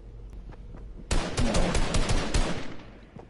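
Loud volley of rapid gunfire in a gas station simulator video game, a dense burst of closely spaced shots lasting about a second and a half before trailing off.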